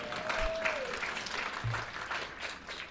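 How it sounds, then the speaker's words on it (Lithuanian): An audience at a jubilee celebration opening claps together in a hall, a sustained, fairly soft patter of applause lasting the whole moment, with a brief voice heard at the start. "Taip, plojam."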